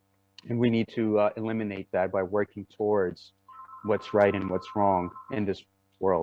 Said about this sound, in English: Please excuse the phone ringing in the back.